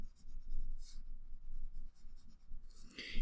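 Pencil strokes drawing and shading a nose on paper, scratchy bursts of scribbling that come and go, close and fairly quiet, with a brighter scratch near the end.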